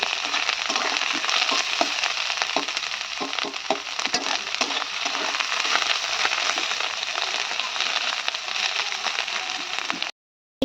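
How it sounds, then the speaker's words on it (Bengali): Mushrooms frying in a hot kadai for a Bengali mushroom curry, giving a steady, loud, crackling sizzle with occasional stirring scrapes throughout, cutting off abruptly near the end. "মাশরুমগুলো আবার একটু ভেজে নেব"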